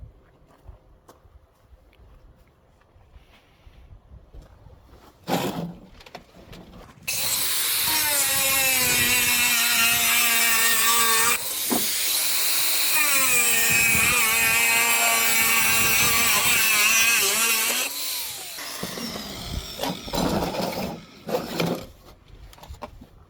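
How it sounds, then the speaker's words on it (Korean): An angle grinder fitted with a wood-cutting blade cuts timber for a chicken coop, a loud sustained whining cut for about ten seconds with a brief dip midway, framed by quieter handling knocks and a sharp clack. "이 나무를 자를 때는 나무 톱날을 활용해서 자르면 참 좋습니다"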